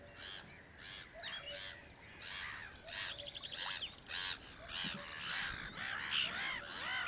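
A noisy colony of black-headed gulls calling over one another on a pond, harsh squawks and sharp cries overlapping continuously at moderate distance.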